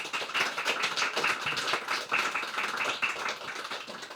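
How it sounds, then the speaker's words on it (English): An audience at a celebration applauds steadily, a dense run of many hands clapping at close range for several seconds without letting up. "Would you give them a round of applause, please?"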